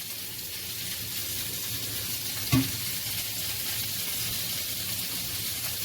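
Small beef meat patties sizzling in a pan, a steady close hiss of frying with one brief clunk partway through.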